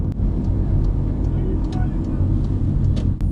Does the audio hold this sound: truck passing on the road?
yes